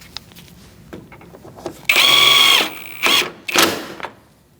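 A power tool drives bumper bolts into a 2008-2014 Mercedes-Benz, with a loud, close whine lasting under a second, then two shorter bursts, each followed by quiet.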